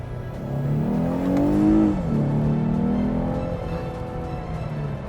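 A Lexus IS 350 F Sport sedan's 3.5-liter V6 revs loudly inside the cabin, its growl rising to a peak, dropping, then holding a steady, slightly falling drone with no talk.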